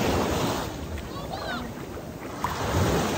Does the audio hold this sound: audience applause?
no